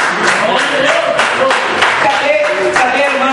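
A church congregation claps their hands together in an even, rhythmic beat, with voices talking or singing loudly over the clapping the whole time.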